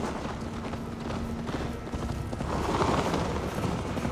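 Horse hooves pound steadily at a gallop in Assassin's Creed Valhalla, a continuous rumbling clatter that swells louder toward the end, with no talking.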